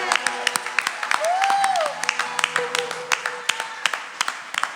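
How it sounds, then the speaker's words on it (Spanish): Church congregation clapping at a Sunday worship service, with sharp hand claps scattered irregularly over a steady hum and a sustained tone, moderately near, while a voice talks over the applause. "Un fuerte aplauso al Señor."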